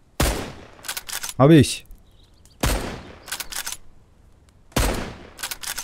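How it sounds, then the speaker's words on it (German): Three loud, sharp gunshots in the video game Mist Survival, spaced a couple of seconds apart, each with a quick echoing tail, plus a brief rising electronic chirp and a short spoken remark. "Das war genau drauf, der Schuss."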